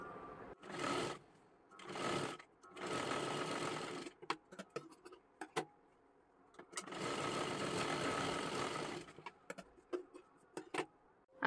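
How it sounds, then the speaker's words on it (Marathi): A sewing machine stitches a strip onto a blouse in several close, steady whirring runs of a few seconds each, separated by pauses full of light clicks and handling sounds, with no talking. "इथे आपल्याला पूर्ण शिलाई मारून घ्यायची आहे।"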